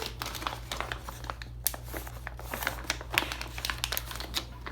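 Thick 6mm plastic zip bag being handled, giving a steady run of crisp crinkles and rustles close to the listener, with no talk over it.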